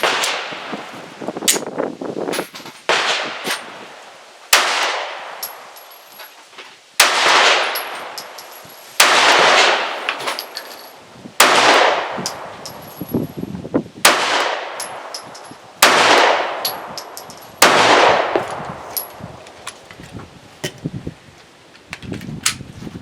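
A Walther PPS M1 9mm pistol fires a single magazine outdoors. There are about ten sharp, loud reports spaced a second or two apart, each followed by a ringing decay, and a faint metallic ping comes between some of the shots.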